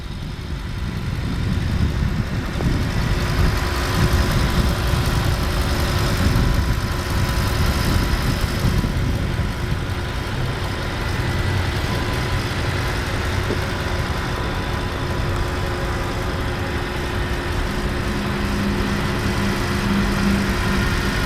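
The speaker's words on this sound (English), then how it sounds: "it's certainly one of the quietest V10s I've ever heard" A 2008 Audi S8 V10 engine idling with a steady, smooth low rumble, even and unbroken throughout, with no voices.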